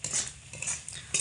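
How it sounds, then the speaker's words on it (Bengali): A utensil stirring spice masala in a pan over low heat, a few quick metallic scrapes and clinks in a short burst, close and without voices. "লো আঁচে রেখে অনবরত এইভাবে নাড়াচাড়া করে"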